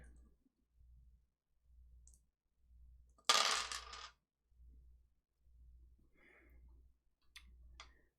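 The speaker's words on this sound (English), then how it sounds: "Roll your damage." Dice tumble and rattle across a hard surface for about a second during a tabletop role-playing game's damage roll, a loud close clatter over a faint low pulsing background, followed by a few faint ticks.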